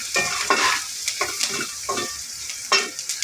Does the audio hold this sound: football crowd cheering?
no